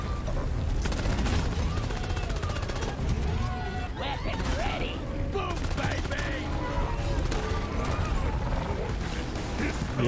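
Pistols firing in Deep Rock Galactic, a dense continuous stream of rapid shots mixed with game effects and machinery-like clatter, with voices talking over the action.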